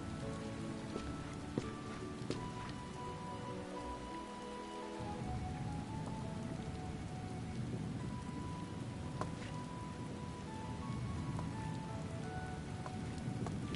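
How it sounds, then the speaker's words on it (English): Steady rain pours down across the whole stretch in Final Fantasy XIV, a dense even hiss with occasional heavier drops and a brief low rumble partway through. "It's raining."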